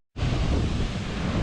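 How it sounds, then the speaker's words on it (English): Big North Sea waves surge into a rock pool on the wild Scottish coast, a sudden loud roaring wash that starts abruptly and stays dense, mixed with wind buffeting the microphone. "This is some big waves coming up here into this rock pool right now."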